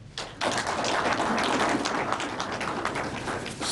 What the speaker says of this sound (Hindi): सारे इजलास में पहली मरतबा आपने ताली बजाई है।